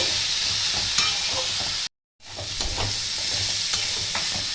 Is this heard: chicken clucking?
no